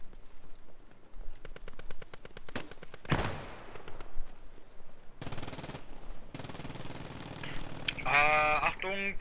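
Gunfire in the Post Scriptum video game, with rapid bursts of shots and sharp reports amid loud battlefield noise and some mechanical clatter, and no voices.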